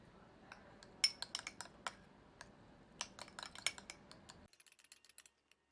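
A spoon clinks and scrapes around a small bowl as about a teaspoon of Tabasco sauce is stirred into a burger sauce mixture, giving a quick run of close, light taps before falling nearly silent.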